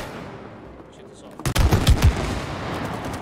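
Video game gunfire breaks out suddenly after a quiet stretch: a loud cluster of rapid shots and blasts, followed by a dense, sustained roar of battle noise.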